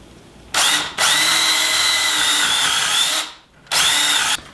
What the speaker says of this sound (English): To do that, I'm going to use a 3/8 inch bit. And first I'm going to just go through the wood here.